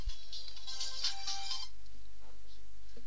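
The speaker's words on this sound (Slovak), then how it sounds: "zvoní mi telefon" A phone rings with a high, warbling electronic trill in quick bursts, fairly loud over a steady low hum, then fades to faint background.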